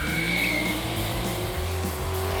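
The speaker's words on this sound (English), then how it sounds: "The Dodge people put you in with a driver, and they'll take you on a really fun little drift course." A Dodge thrill-ride car drifts around a drift course with a loud, continuous engine roar and rising tire squeal, holding close and steady throughout.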